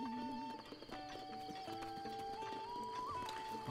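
Horse hooves clip-clopping in Zelda: Breath of the Wild, a steady run of hoofbeats from a pack of wild horses over game music with bird calls, with no talking.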